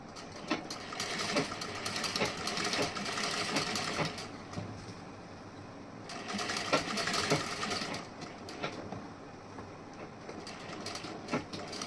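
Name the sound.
sewing machine stitching blouse front part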